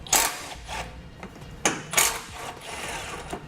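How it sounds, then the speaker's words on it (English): A 13mm socket ratchet backs bolts out of the fascia support on a 2018 Chevrolet Sonic, giving short bursts of clicking ratchet action with pauses between strokes, close by and with no talking. "So we'll grab a 13mm socket and pull those out."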